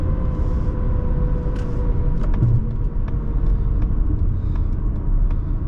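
A 2024 Mazda CX30 Turbo Premium cruising on a highway, heard from inside as a loud, steady low road and engine rumble with faint ticks and clicks throughout.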